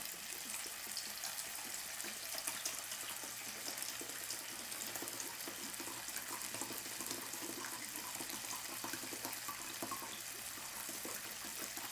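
Tap water runs steadily into cups for a meat bun sauce in a home kitchen, a constant faint hiss and splash that lasts throughout with no talk.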